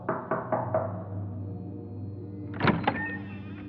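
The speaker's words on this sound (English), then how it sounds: "somebody knocked on their door" A front door is knocked on three times quickly, followed by a pause and then two more louder raps, heard close and clear in a quiet room.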